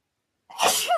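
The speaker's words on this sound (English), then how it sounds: "I'm going to sneeze" A single sharp sneeze bursts out after a moment of silence, loud and close, ending in a short voiced tail.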